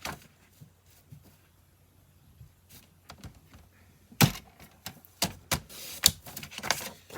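Designer series paper sliced on a paper trimmer during stamp-set card making, heard as a quiet stretch of small handling noises followed by a louder run of sharp cutting thunks and scraping strokes, close up with no talking.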